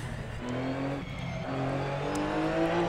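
A Porsche 911 GT3 Cup 2017 race car in Assetto Corsa drones with a steady engine hum, its pitch stepping up through gears as it accelerates, close and continuous with no voices.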